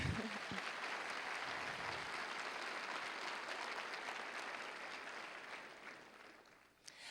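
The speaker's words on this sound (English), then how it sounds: "Yes, we could applaud for that." A church congregation applauds, producing a continuous, even wash of clapping that carries on steadily and softens slightly toward the end.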